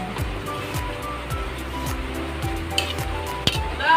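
Kangkong with black beans sizzling in a pan while being stirred, a steady frying hiss with repeated scraping strokes of a utensil and a couple of sharp metallic clinks near the end.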